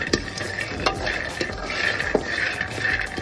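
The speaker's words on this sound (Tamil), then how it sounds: "நான் வேர்க்கடலை வறுத்த பிறகு எள்ளு வறுக்க போகிறேன்" Peanuts dry-roasting in a pan while being stirred, a steady dry rattling and scraping with occasional louder knocks of the spoon against the pan, close and continuous.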